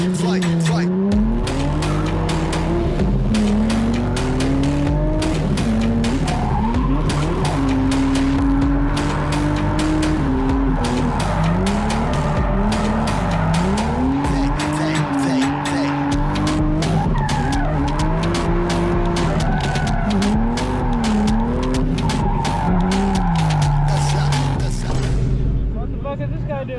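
Nissan G35 drifting at a car festival ride-along, with sustained loud tire squeal wavering over a constantly revving engine for the whole stretch, and voices talking underneath.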